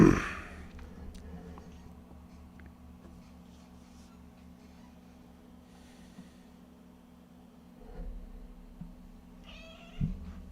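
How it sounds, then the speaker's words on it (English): A cat meows close to a microphone in a brief sharp burst at the start, followed by quiet room hum and a few softer sounds later. "y'all got a meow right into the mic there"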